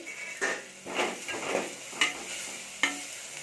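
Onions sautéing with curry leaves and coriander in a pan for a crab gravy, a steady close sizzle broken by several sharp scrapes and stirring strokes of a utensil against the pan, with no voices.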